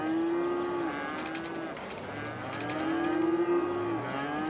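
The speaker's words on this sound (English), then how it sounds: "Oh my god, these cows are just out of control." Cattle on a farm in the Cities: Skylines city-building game let out several long, drawn-out moos, close and clear, overlapping one another over a low ambient background.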